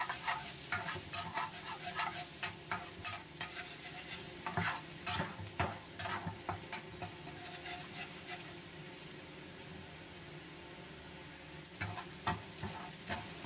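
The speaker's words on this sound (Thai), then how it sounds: "เมื่อน้ำมันร้อนได้ที่แล้วก็ลงกระเทียมสับได้เลยนะครับจากนั้นเราก็ผัดให้หอมเหลืองเลยนะครับ" Minced garlic stir-frying in hot oil in a pan over medium heat, with steady sizzling and repeated scraping stirs of a utensil against the pan, close and clear.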